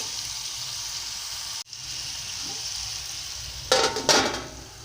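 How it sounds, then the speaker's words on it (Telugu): Bottle gourd pieces softening in hot oil give a low, steady sizzle close by, with a brief dip and then a couple of louder scraping stirs near the end; no talk. "సొరకాయ ముక్కలు ఇదిగోండి బాగా మగ్గుతున్నాయి"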